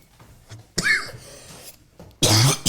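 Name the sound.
coughing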